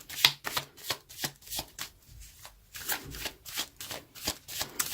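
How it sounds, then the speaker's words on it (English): Tarot cards are shuffled by hand in quick, repeated riffling bursts, close and crisp, with short pauses between. "let's pull a few additional cards."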